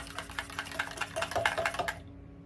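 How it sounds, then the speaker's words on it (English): A spoon clinks and rattles rapidly in a cocktail glass, a quick run of close, bright taps that stops abruptly after about two seconds. "I'm going to give this a stir."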